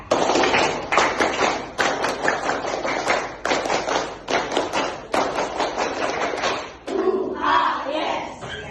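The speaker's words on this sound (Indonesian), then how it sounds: "Kalau masih semangat, berikan tepuk pramukanya" Schoolchildren in a classroom perform the Indonesian scout clap, tepuk pramuka, in unison: loud, rhythmic bursts of group clapping in repeated sets, with a final shouted chant from the class at the end.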